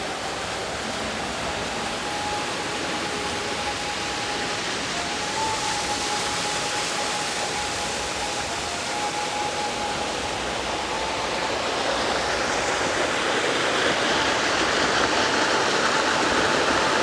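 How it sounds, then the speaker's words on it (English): Waterfalls and fountains at a theme park pour in a steady broadband rush that swells slightly toward the end, with a faint steady tone beneath and no talking. "It's good that they've still got all the waterfalls and fountains working."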